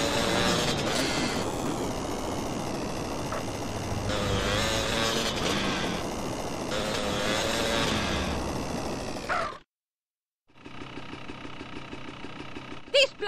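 A car drives in GTA San Andreas with a steady engine drone and mechanical rattling, under ongoing game dialogue, then briefly cuts to silence before resuming more quietly.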